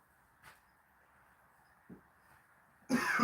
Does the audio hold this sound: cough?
yes